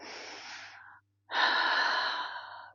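Two long, close, audible breaths, a steady airy exhale, a short pause, then a deep drawn inhale, taken while holding a hatha yoga twist.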